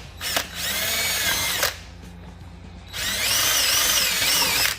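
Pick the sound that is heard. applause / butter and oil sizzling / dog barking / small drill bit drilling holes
small drill bit drilling holes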